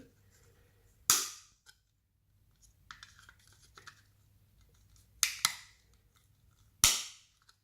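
Side cutters snip through plastic clips inside a Porsche 911 996, three sharp, loud cracks spaced a few seconds apart, with faint scraping and handling noises between them.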